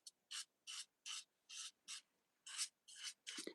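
A 150 grit nail file rasps across a fingernail in about nine quick, even strokes, each a short bright scrape separated by brief pauses, close and fairly soft with no talking.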